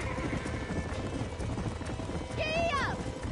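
A horse gallops in the video game Red Dead Redemption while a bronco is being broken, with rapid clip-clop hoofbeats throughout and a sharp whinny near the end over a moderate background.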